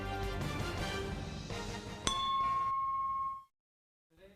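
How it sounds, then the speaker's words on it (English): A bronze memorial bell at a university medical center gives one sharp metallic strike that rings on as a clear, steady tone before fading into silence, heard over a low background rumble. "That bronze bell rang 19 times at Banner University Medical Center this morning."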